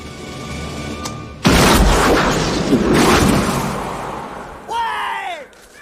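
A big blast from an action film erupts as one loud, broadband boom that sustains and rolls off over several seconds, followed by a short burst of high whistling or screeching debris tones near the end.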